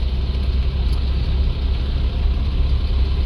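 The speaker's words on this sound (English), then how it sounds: "We are driving down the road." A steady, loud engine rumble and road noise from inside an old car driving down a road, its first time out in 50 years, running continuously with no talking.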